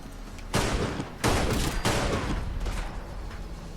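Heavy shotgun blasts from Fallout London boom out one after another, three or four loud, close reports a little under a second apart, each trailing off in a long roar.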